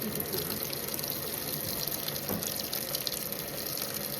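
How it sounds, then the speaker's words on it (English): Portable washing machine running its first rinse on level 2 with water and detergent, a faint, continuous sloshing and rushing of water with a soft steady churn and no talking. "So we're running level 2, first rinse, with a full cap full of Purex."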